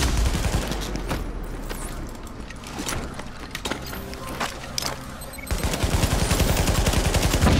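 Rapid automatic fire from a Police T821 rifle in The Division video game: dense, loud bursts of gunshots with mechanical clatter, a brief lighter stretch in the middle, then a heavy sustained burst to the end.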